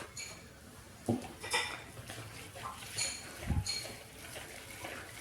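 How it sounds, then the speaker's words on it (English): A whisk stirs brownie batter made with vegetable oil and hot water in a bowl, giving faint scraping and a few clinks against the bowl at an uneven pace, soft and close. "And then just stir it around with your whisk."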